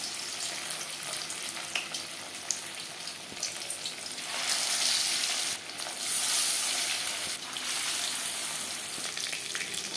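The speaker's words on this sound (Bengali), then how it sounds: "মাছ ভাজবো" Fish sizzling as it fries in hot refined oil in a pan, a steady broadband crackle that swells louder at times over ten seconds, close up with no talking.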